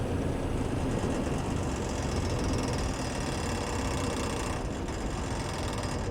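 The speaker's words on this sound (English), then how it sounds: "reduce back down to idle RPM, and then you'll simply turn the ignition to the off position" The engine of a Först TR8 tracked wood chipper runs close and loud in a steady low, rattling drone, holding an even idle throughout with no voices.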